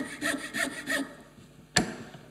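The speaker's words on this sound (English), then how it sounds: "This is one of the nice things about coping saws" Three rhythmic rasping strokes of a coping saw cut through wood up close, followed after a pause by a single sharp knock.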